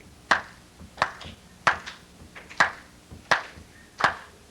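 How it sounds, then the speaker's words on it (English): Students in a classroom keep a steady 4/4 beat with hand claps, six crisp unison claps spaced evenly about two-thirds of a second apart, each followed by a brief room echo and faint scattered off-beat taps. "I want this half of the classroom to clap a beat for me."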